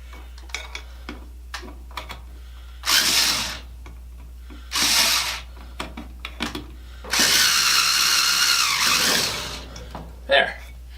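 Screws are driven tight into an electrical outlet box with a power tool in a living room wiring job, three short whirring bursts separated by small clicks and handling taps, close and fairly loud.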